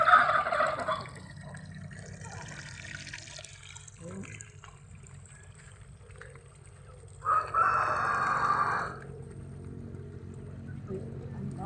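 Chickens on a provincial farm cluck and call, with a louder burst of fowl calls near the start and another partway through. Faint background noise runs throughout, and people talk nearby.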